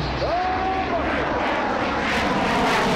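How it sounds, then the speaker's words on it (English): An F-16 fighter jet at full afterburner climbs nearly vertically during an air show demonstration, a loud, continuous roaring blast that fills the whole stretch, with a faint announcer's voice partly buried beneath it. "Major Graham will apply full afterburner and accelerates aircraft into a nearly vertical climb, demonstrating the F-16's awesome thrust-to-weight ratio"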